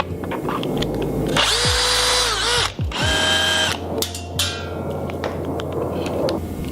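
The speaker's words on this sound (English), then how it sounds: "I'm going to unscrew two of these screws that are right next to the battery port." A cordless power screwdriver whirring in short bursts as it backs screws out beside the battery port of a handheld tool, two loud close runs with a quick pitch change between, followed by quieter clicks and handling.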